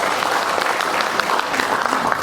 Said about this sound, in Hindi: ताली तो आप मानिक सरकार को भी मार सकता है।